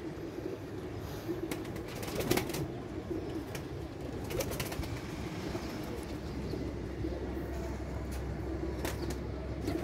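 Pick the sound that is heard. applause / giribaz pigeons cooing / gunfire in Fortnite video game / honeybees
giribaz pigeons cooing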